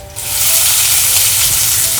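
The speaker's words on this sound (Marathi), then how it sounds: "लसूण पहिले लाल होईपर्यंत चांगली खळून द्यायची" Garlic fries in hot oil for an aloo matar dish, a loud, close, steady sizzle that bursts in suddenly and holds its hiss throughout, with no voices.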